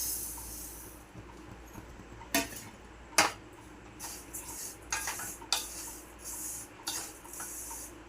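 Fennel seeds being dry-roasted and stirred in a pan for a masala mix, with a soft background hiss broken by a series of sharp metallic scrapes and clinks from the spoon against the pan at irregular intervals.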